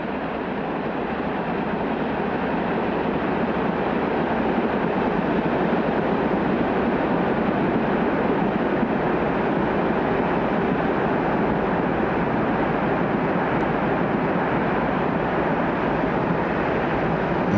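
A train on the Alpes line between Vercors and Trièves, running along a mountainside with a continuous loud rolling rumble and dense rail noise, steady throughout with no voices.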